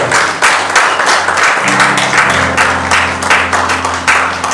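A church congregation at a Sunday service claps and applauds in loud, dense waves of hand claps, with a sustained low musical tone joining in partway through.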